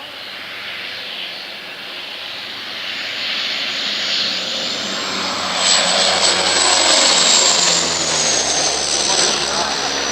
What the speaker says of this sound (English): This plane in Canada was called in to extinguish a fire in the middle of the road.